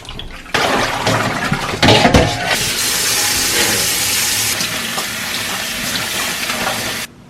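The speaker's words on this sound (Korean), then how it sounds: "살랑살랑 줄기 쪽에 물 가도록 해서 씻어주세요" Salted napa cabbage being washed in plenty of water, a close rush of splashing and running water with a steady hiss that carries on for several seconds, handling noises at the start, no voices.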